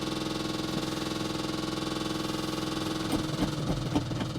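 A 1980 Dodge W200 truck with a Thermoquad-carbureted engine idles with an even, rhythmic chug, then turns rougher with louder uneven bursts near the end; nobody speaks.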